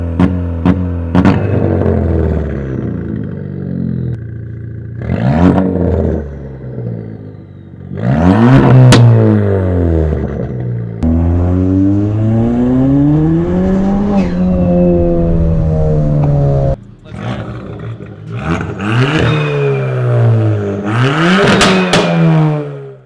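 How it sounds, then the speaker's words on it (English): A 300 hp Ford Fiesta ST with a custom exhaust and pop tune revs hard again and again, pitch sweeping up and down with loud exhaust pops and crackles between pulls, close by. "It sounds really good, especially with the pop tune from Dizzy."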